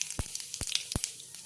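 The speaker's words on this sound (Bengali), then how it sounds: "কড়াইতে আবারও তেল গরম করে নেওয়া হয়েছে। এবার ফোড়ন হিসেবে দিয়ে দেওয়া হচ্ছে সাদা জিরে" White cumin seeds sizzle in hot oil in a wok. A soft, steady hiss carries three sharper low crackling pops at regular intervals, with no voices.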